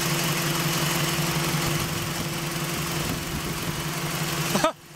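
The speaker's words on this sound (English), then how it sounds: "Wow, that engine is shaking like crazy." A Toyota Echo engine idles roughly, misfiring from a bad coil pack, with an uneven, shaking low rumble and faint knocking, close by, then cuts off abruptly near the end.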